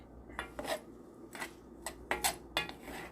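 Garlic stirred in a preheated pan for smothered turkey wings: about seven close, distinct scraping strokes of a utensil against the pan, in an uneven rhythm over a low background hum.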